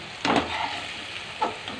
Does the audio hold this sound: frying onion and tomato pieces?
yes